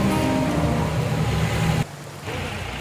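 Heavy rain pours down on a mountain road near Guptkashi in a dense, continuous roar that drops slightly in loudness partway through and then carries on.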